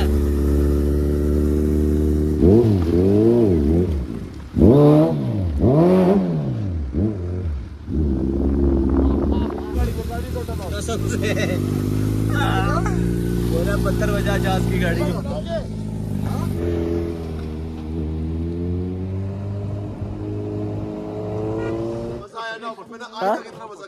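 Kawasaki Z1000 motorcycle engine on a ride near Bhaderwah, revving in rising and falling surges with a steady drone between them, close and loud, with people talking over it.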